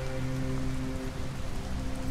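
Steady, dense rainfall in the video game Detroit: Become Human patters on surfaces throughout, a continuous close hiss of drops with a faint low tonal hum underneath and no voices.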